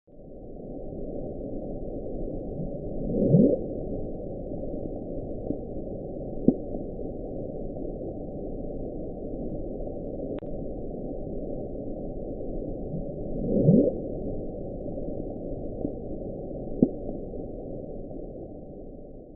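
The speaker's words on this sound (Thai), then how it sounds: "ผมมีตัวอย่างของเสียงเดือบลุ๊ปที่บันทึกไว้มาให้ทุกคนได้ฟังกันนะครับ" The Bloop, a low, droning underwater rumble recorded in the deep sea, with two swelling upward sweeps about ten seconds apart and a few faint clicks, muffled and distant.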